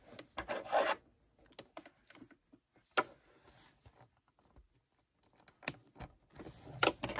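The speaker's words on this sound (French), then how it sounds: "il ne me reste plus qu'à venir maintenant découper" Scissors snip through a sewn fabric coin purse in short, quiet, scattered cuts and rustles, close up, with brief pauses between bursts and no talking.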